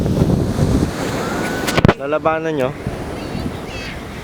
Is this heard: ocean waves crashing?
yes